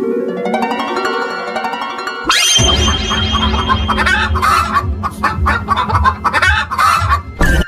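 In a cartoon fox story, a brief musical opening cuts to a loud, frantic burst of chickens clucking and squawking at night, overlapping calls jostling together close up.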